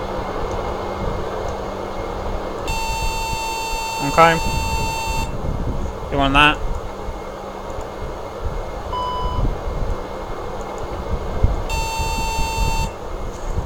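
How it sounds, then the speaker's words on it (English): A Q400 gear warning horn in a flight simulator sounds as a steady electronic tone in two bursts, with cockpit background hum, clicks and people talking briefly between them. "The gear warning horn,"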